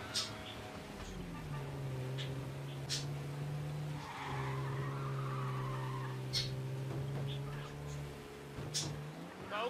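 Car skidding in the video game Mafia: Definitive Edition, a drawn-out tire squeal with a sustained engine drone over several seconds, close and loud, with brief clatters and game voices faintly beneath.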